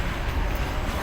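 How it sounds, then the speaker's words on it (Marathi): A goods train passes along the railway below in the Konkan, a low, steady rumble of wagons heard at a distance, fairly quiet and unbroken. "बघा इथून मालगाडी पण चाललेली आहे"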